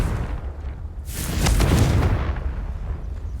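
A Confringo blasting spell goes off in a Harry Potter video game, a booming burst swelling after a quieter lead-in and rumbling on for over a second before fading into a low background hum.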